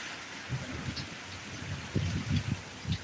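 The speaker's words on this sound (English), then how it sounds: "Everything that hits the mountains is having to drop before it can climb over, so we're getting all the rain." Heavy rain hisses steadily during a storm in the Appalachian mountains, a dense wash of noise with soft low thumps and patters rising and falling beneath it.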